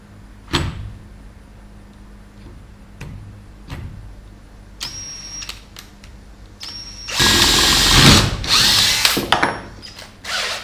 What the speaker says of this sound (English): I'm going to drill down through there.